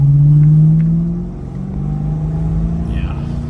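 A 1989 Ford Mustang GT 5.0 pulls hard through a turn, its engine droning loud and low with a rising then falling pitch, the cabin roar easing slightly as it settles; a voice calls out briefly near the end.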